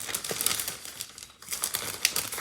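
Sheets of pumpkin stickers are shuffled and handled, producing light, close crinkling and papery rustles in quick irregular bursts with a brief pause in the middle.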